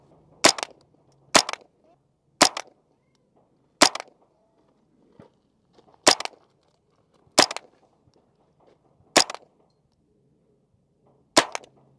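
A Smith & Wesson M&P 15-22 .22LR rifle fires about eight sharp, separate shots at irregular intervals of roughly one to two seconds, each a crisp crack with near silence between.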